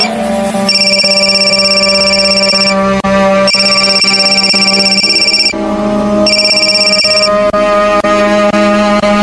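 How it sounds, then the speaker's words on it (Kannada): A phone rings loud and close with an incoming call, an electronic ringtone repeating in three bursts with a steady chiming melody. "ನಿನ್ ಟ್ಯೂಷನ್ ಮಿಸ್ ಫೋನ್ ಮಾಡ್ತಿದ್ದಾರೆ."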